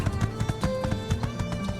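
Close, steady clip-clop of horse hooves from a ridden horse in the video game My Time at Sandrock, a quick even rhythm of hoof strikes.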